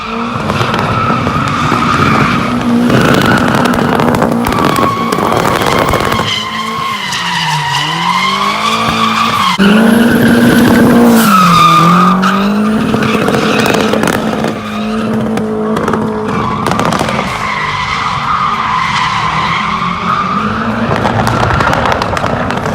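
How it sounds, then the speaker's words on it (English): Turbo Miata drifting at full throttle, engine screaming and bouncing off the rev limiter while tires squeal and skid, loud and continuous throughout with wavering pitch as the car slides. "when I was at the drift events, it was all full throttle hitting the limiter"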